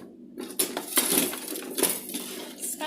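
A spoon scrapes and clinks against a pot while stirring popcorn, with several sharp metallic scrapes at irregular intervals, close and fairly loud, with no talking.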